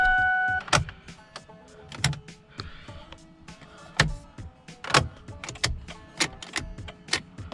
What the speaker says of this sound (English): it's making this window roll down still